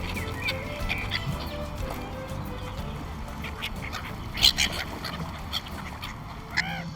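Ducks and other birds quack and call outdoors in Oslo while people feed them, scattered calls over a busy background of ambient noise, with one sharper burst of calls midway.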